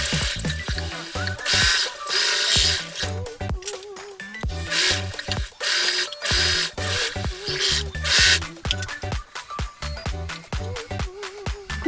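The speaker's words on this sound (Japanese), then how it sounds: "ロックミシンをかけます。" An overlock serger trims and finishes the raw fabric edges of a handmade lunch bag, running in loud bursts of rapid stitching separated by brief pauses.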